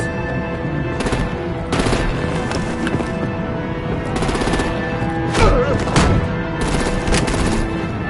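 Gunfire and artillery in the Batman: The Enemy Within game, loud bursts of shots in uneven clusters over a constant busy action backdrop, no voices.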